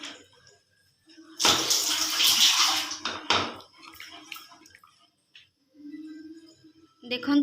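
Water pours in a loud burst into a simmering pot of prawn malai curry with coconut milk, followed by softer bubbling and utensil sounds while a voice talks intermittently.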